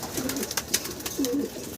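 Jalali pigeons on a farm give two short, close coos in quick succession, with faint rustling behind them.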